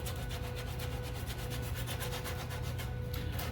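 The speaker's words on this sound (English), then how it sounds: "sandpaper" Sandpaper rubs over the veneered wood of a Continental Neoclassical plant stand under restoration, a steady, dense rasping that repeats in quick even strokes and carries on without a break at a close, constant level.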